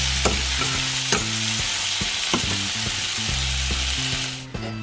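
Red and yellow bell peppers and onions fry in a pan with a steady, close sizzle, broken by a spatula's regular scraping and stirring strokes.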